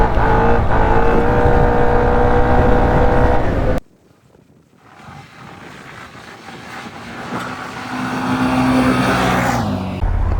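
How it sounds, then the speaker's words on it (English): A modified, very fast four-wheeler ATV loaded with fifty pounds of weight revs loud and close, then cuts out abruptly before a distant engine roar builds back up as it launches away. "That one rode a hard ass wheelie out."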